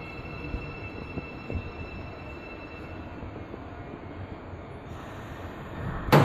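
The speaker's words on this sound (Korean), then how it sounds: "몇 분 뒤에 신분당선 열차가 들어왔습니다." A Shinbundang Line subway train pulls into a platform with a low rumble and a thin, sustained wheel squeal, with a sharp hiss of brakes at the end.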